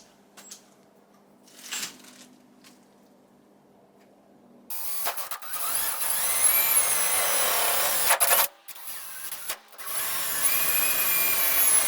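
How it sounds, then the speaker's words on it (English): A power drill whirs loudly in long bursts, biting into a Nissan S15's body with grinding and brief pauses between holes, after some quiet handling noises. "So I'll go ahead and drill those now."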